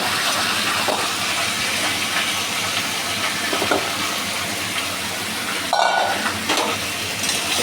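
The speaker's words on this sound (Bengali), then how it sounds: "তেল ফাটছে, দিয়ে দেবো যে সবজিগুলো।" Mixed vegetables (carrot, capsicum, potato, beans, pumpkin) frying in hot oil, a steady close hiss and splutter throughout, with a brief louder sizzle burst near the end.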